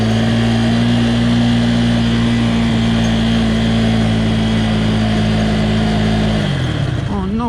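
A motorcycle engine cruises in first gear along a road at night, holding a loud, steady buzzing drone at close range before the revs drop and waver near the end.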